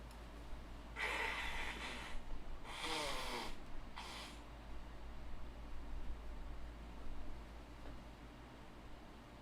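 Someone blows their nose, with three broad, noisy bursts in quick succession, the first two longer and the third short. Afterward a steady low hum and faint breathing remain, and nobody speaks.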